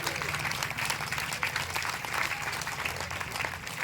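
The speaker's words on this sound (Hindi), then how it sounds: "एक बार इनके सम्मान के लिए जोरदार ताली होनी चाहिए" Steady, vigorous clapping from a crowd at a political rally stage in Sirsa, sustained and fairly loud throughout with a few scattered voices.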